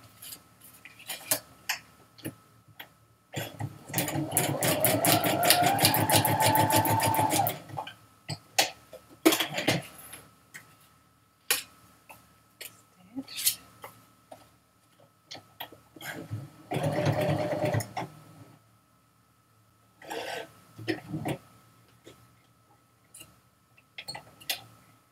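A sewing machine stitches pages of a memory book album in quick rattling bursts, one long run and several shorter ones, separated by clicks, handling noises and a cough.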